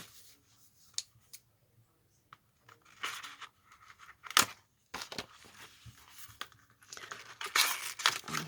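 Watercolour markers are unwrapped by hand in bursts of tearing and crinkling packaging, sharp rips and rustles close by with short quiet pauses between them.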